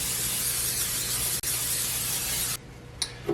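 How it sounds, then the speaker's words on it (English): Oil sprayed from a can onto eggplant slices gives a close, steady hiss lasting about two and a half seconds with a brief break, followed by a couple of faint clinks. "I'm going to give the eggplant a spray."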